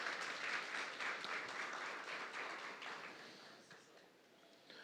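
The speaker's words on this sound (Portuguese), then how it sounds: "Salva de palmas para o nosso departamento de música." A church congregation gives a round of applause for its music department: dense, steady crowd clapping that holds fairly even for about five seconds, then thins slightly toward the end.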